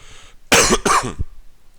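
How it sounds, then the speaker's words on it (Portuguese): Two quick, harsh coughs close to the microphone, back to back, followed by quiet. "Peço desculpa pela tosse"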